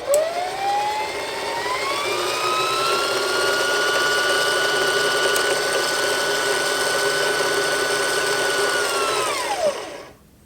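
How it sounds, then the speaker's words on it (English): A Singer Heavy Duty sewing machine winds a bobbin in one steady, loud, high whir that rises in pitch at the start, holds for about nine seconds, then drops away as it stops. "So I'm going to wind a bobbin"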